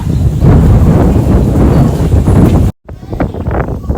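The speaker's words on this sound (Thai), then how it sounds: "ลมแรงนะคะหนาว" Strong cold wind buffets the microphone outdoors at a large open-air plant and flower market, a loud continuous rumbling roar with a brief dropout before the gusts return.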